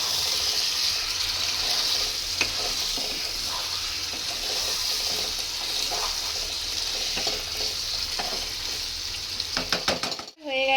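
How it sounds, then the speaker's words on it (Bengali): Potatoes and mutton sizzle and are stir-fried in a pan for mutton curry, steady frying hiss with scraping spatula strokes and pan clanks, ending with a sharp knock and a brief pause. "এবার জাস্ট এটাকে কষিয়ে নেব।"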